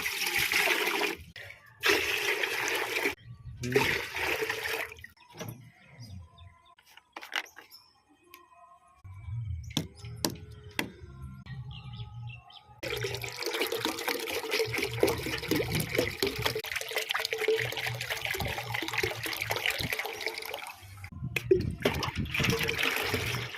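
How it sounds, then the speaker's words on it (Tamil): Water is poured into the radiator of a 16.5 hp VST power tiller to flush the coolant, with intermittent splashing and gurgling bursts separated by pauses. "மீண்டும் ஒரு பஸ் தண்ணி ஊற்றிட்டு கழியணும்"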